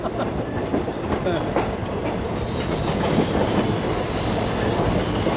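A train rolls slowly across a bridge over the River Kwai, a steady nearby rumble with rhythmic clickety-clack of wheels on rails.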